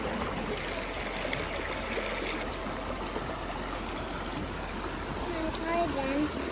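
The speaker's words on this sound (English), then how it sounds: "It's a cool, clean little creek though." A small, clean creek flows steadily at moderate distance, a continuous soft trickling and rushing of water with no breaks; a faint voice briefly surfaces near the end.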